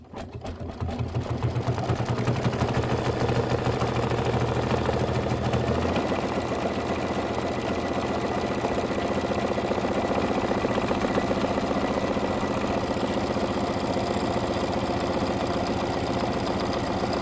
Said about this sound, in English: And now it's going to do a pretty little stitch right inside of that satin stitch.